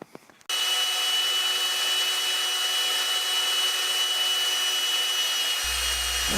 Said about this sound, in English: With the sander we go ahead and make a peanut shape of the body